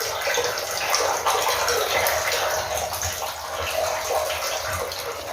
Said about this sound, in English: how there is water dripping on one of the incoming pipes. And that is the snow melt from the roof.